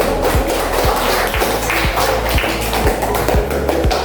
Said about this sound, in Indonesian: Kita beri dulu aplaus untuk kelompok 1.